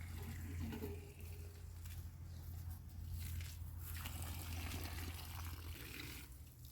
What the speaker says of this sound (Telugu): నీళ్ళు కొద్ది కొద్దిగా వస్తున్నాయి